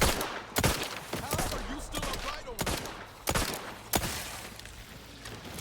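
Single-action revolver fired in Outer Worlds 2, several loud sharp reports at uneven intervals of a second or so, with game noise and a voice underneath.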